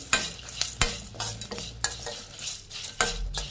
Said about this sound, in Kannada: ಕರಿಬೇವು ಚೆನ್ನಾಗಿ ಫ್ರೈ ಮಾಡಿ